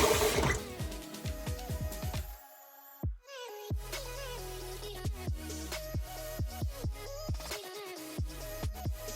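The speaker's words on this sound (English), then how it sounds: "And now I'm just going to rinse off everything" Running water from a tap splashes as a face is rinsed, with dripping, sloshing and hand splashes against a musical background, fairly soft and close.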